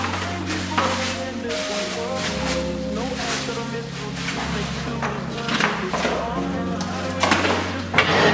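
New pots and pans are unboxed and handled in a London kitchen, with scattered metallic clanks and knocks over low hum while people talk.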